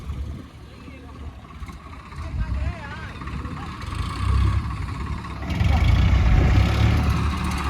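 A 4x4 tractor, one of a New Holland 3630, Eicher 557 or Swaraj 855, driving at speed: a low engine rumble that swells louder toward the end, with people talking over it.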